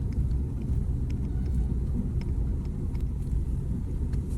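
A taxi car driving along a road, giving a steady low engine and tyre rumble that stays even and close throughout, with no talking.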